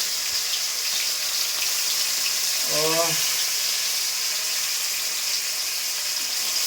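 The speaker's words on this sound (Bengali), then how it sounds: "মাছ ভাজার সে আওয়াজ অনেকদিন হয়ে গেল" Fish frying in a pan, a loud steady sizzle throughout, with a short voice sound briefly over it midway.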